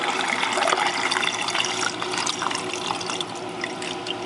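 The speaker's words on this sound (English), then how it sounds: "And you'll start seeing the water flushing down." Water drains steadily down a DIY PVC aquarium overflow after the pump is shut off, a continuous close rushing, gurgling flow that holds at a fairly even loudness, with no voices over it.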